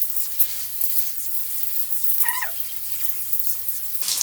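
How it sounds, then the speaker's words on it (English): Hot shower water running and splashing onto hair, a steady hissing spray close by with no talking over it. "let me turn on my shower guys. Okay, hot water is here guys. Okay, let me wet my hair first."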